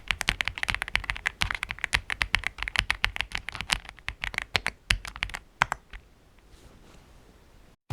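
Rapid clacking keystrokes on an EPOMAKER x AULA F75 mechanical keyboard with Leobog Reaper switches and double-shot Cherry-profile keycaps, close and crisp, then slowing to a few scattered presses before trailing off.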